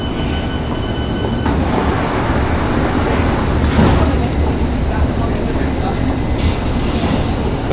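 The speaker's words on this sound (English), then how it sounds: "Let's see how long it takes for this train to leave." London Underground Subsurface Line train standing at a platform, giving off a continuous loud mechanical rumble with a brief squeal and rattle partway through, and faint voices in the background.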